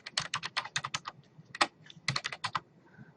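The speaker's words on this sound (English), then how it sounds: "I'm going to just type them in because I know what they are already." Close, fast bursts of typing on a computer keyboard, with clustered keystrokes, a brief pause and then another quick run of keys.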